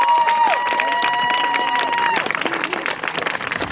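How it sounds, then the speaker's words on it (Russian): A theater audience applauds, a burst of clapping and cheering that starts under a sustained tone and then turns ragged and fades toward the end. "Аплодируем, аплодируем!"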